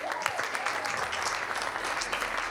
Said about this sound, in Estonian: Anname Helenele veel ühe aplausi